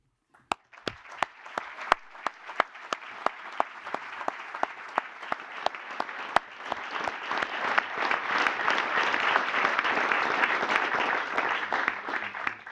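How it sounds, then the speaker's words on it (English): Guests and athletes at the SSL Gold Cup 2022 inaugural launch ceremony applaud in a room, starting with a few sharp separate claps that swell into full, sustained applause, moderately loud and without speech. "give one more big hand of applause"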